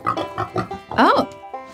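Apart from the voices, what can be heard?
pig oinking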